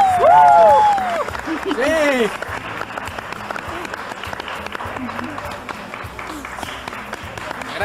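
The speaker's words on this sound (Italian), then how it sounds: "accogliamo con un bel applauso molto caloroso Felicita!" Warm applause greets Felicita, crowned queen of the night, with cheers and whistles rising over the clapping at the start, then a steady crowd of hands continuing under scattered voices.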